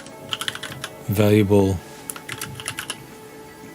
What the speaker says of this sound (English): I'm going to try to be less lazy about typing things out